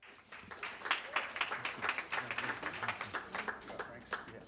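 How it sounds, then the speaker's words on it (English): Applause at a school board meeting for the assistant coaches, a modest group clapping with individual claps audible, fairly quiet and steady, with some voices mixed in. "a big round of applause for our head coach"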